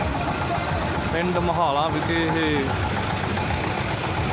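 Tractor engines rumble steadily at a farmers' tractor march passing through Mahala village in Punjab, a continuous loud drone with someone talking over it.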